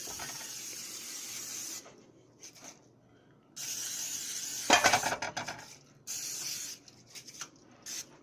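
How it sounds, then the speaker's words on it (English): Several bursts of cooking spray hissing close up from an upside-down can onto a baking pan, each a few seconds long with short pauses between, one sharper hiss in the middle. "it's kind of hard to spray with the can upside down"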